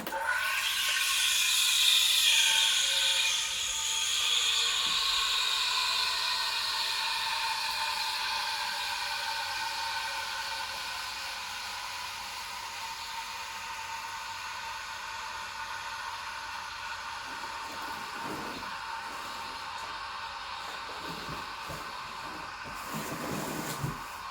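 A Breville Oracle BES980 espresso machine runs with a steady, whirring mechanical hiss that fades slightly over time, with a few soft rubbing knocks near the end.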